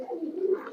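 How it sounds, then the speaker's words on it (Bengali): A single low coo from a loft pigeon among a large flock of racing birds, close and steady for under a second, with no talk over it. "এই যে থরের কবুতর, থরের কবুতর গুলো একটু একবার দেখাচ্ছি"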